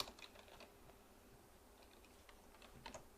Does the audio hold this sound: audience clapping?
no